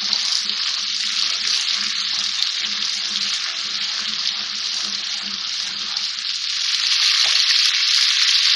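Spices sizzle and fry in a karahi of hot oil for danedar chicken korma, a loud, steady broadband hiss that runs unbroken throughout and swells slightly toward the end, with no talking.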